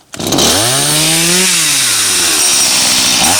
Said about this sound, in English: Now you have your chainsaw started.